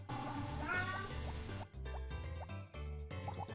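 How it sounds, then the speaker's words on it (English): A pet cat meows indoors again and again behind steady game music, each call short and rising, faint to moderate. "my cat's meowing in the background."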